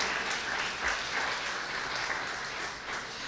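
Church congregation clapping for the King during a Christian sermon, a steady dense wash of many hands applauding at moderate level with no speech over it.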